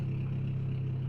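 A BMW F30 320i with the N20 turbo four-cylinder and a muffler-deleted custom axle-back exhaust gives a brief, steady, low droning exhaust note while cruising.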